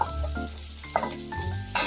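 A short burst of sizzling in a pan, with hiss and faint clinks of utensils close by.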